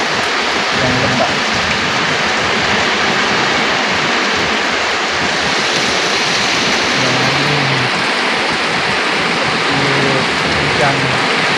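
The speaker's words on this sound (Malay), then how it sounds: "Terapkan suasana hujan malam" Heavy night rain pours during a windy storm, a loud, dense, unbroken roar of water close by, with occasional faint low sounds beneath it.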